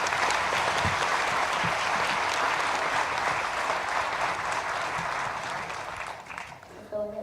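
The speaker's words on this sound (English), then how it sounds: "Can we give one more round of applause to Mercer seniors?" A university audience applauds Mercer seniors at a Founders' Day event, with dense, steady clapping from a large crowd that holds for several seconds, then thins and fades out near the end.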